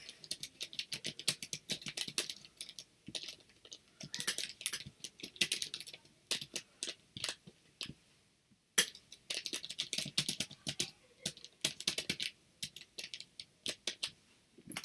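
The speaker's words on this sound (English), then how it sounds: "that sound, in case you wanted to know, is my keyboard, which I actually decided to keep the plastic on" A Mac computer keyboard with its plastic cover still on, typed in rapid bursts of soft, muffled clicks with short pauses, close and fairly quiet, no talking.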